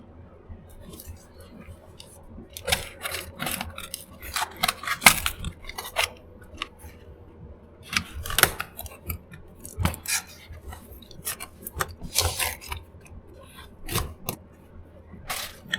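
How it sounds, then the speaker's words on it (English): Packaging around an XFX RX 9060 XT White Edition graphics card is unwrapped nearby, with scattered crinkling, rustling and sharp tearing bursts against a quiet background hum. "Let's just unwrap this first."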